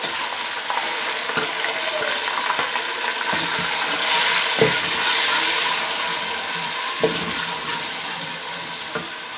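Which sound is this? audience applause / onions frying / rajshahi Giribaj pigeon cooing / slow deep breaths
onions frying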